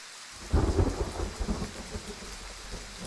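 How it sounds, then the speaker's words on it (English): A thunderstorm in the hunting game Way of the Hunter brings a deep, rolling thunder rumble that swells in after a short pause and slowly fades, over a steady wash of rain. "This might be our first thunderstorm in the game, too. I gotta admit, the rumble makes it sound like it was just back to the right of me."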